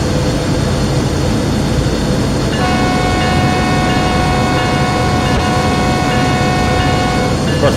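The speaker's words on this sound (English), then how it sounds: "Of course, the game had to do some weird horn sound." In Train Sim World 6, a train horn sounds with a sustained multi-tone blast that comes in partway through and holds to the end, loud over heavy rumbling locomotive and rail noise.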